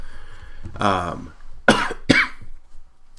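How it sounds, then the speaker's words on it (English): After a brief vocal sound, a person gives two sharp, close coughs in quick succession. "I got a cough"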